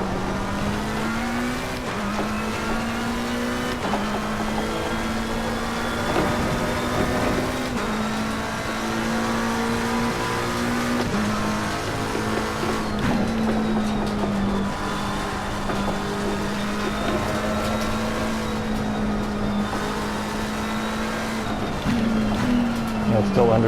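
Race car engine in the Assetto Corsa Competizione sim racing game, driven on cold tires with understeer: a loud, continuous high engine whine that rises and drops with gear changes and throttle over a full stretch of lap.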